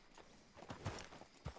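Horse hooves clip-clop in the video game Red Dead Redemption, a few soft, uneven steps, faint and close, with no one talking.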